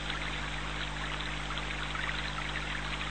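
Water flows in a steady, continuous rush, evenly textured and fairly close, with a faint low hum beneath and no voices.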